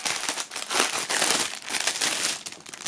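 Band flag from a box set being pulled out of its plastic foil wrapping, loud close crinkling and rustling in irregular bursts throughout, with no voices.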